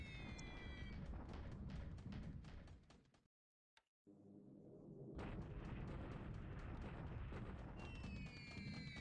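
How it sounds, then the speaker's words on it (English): B-17 bombers carry out a night raid in a World War II strategy video game, with a dense run of rumbling explosion blasts, a brief silent gap, and then more booming impacts. "B-17's night bombing again."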